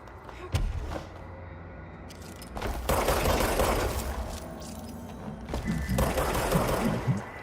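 Gunfire in the game Control during the Foundation DLC, rapid mechanical bursts of shots in several clusters, loud and close, with brief pauses and impact noise between.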